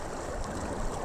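Strong current of a river at a wading crossing on a 100 km hiking loop in the Syöte area, a steady broadband rush of flowing water, close and continuous, with no speech.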